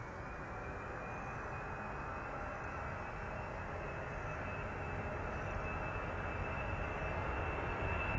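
A PIA Boeing 747-200 going around at Manchester sends a steady, distant jet roar that slowly swells over several seconds, with no voices over it.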